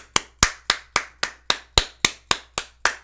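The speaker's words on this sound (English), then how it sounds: "A huge round of applause for that right there." A single person claps in an even, steady rhythm, about eleven sharp, close claps over three seconds, with no talk.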